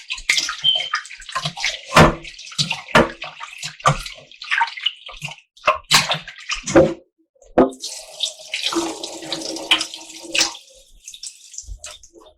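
Beef is rinsed under running water in a kitchen, with bursts of splashing and pouring against a bowl and sink. Choppy, close splashes alternate with short pauses and steadier water flow.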